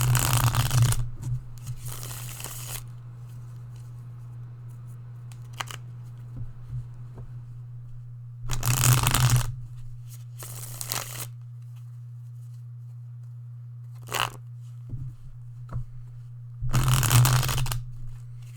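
Cards being shuffled for a card reading in several separate bursts of riffling, close and fairly loud, separated by quiet pauses over a steady low electrical hum, with no talking.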